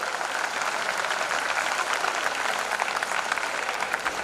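Applause from an audience at a school carnival event on 31 December, a dense, continuous roar of many hands clapping, loud and steady throughout.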